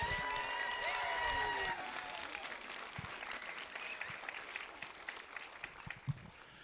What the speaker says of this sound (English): let's have a warm welcome and round of applause for the staff here at Rutkin Elementary.